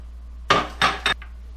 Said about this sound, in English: I'm just going to start throwing these ingredients into the food processor.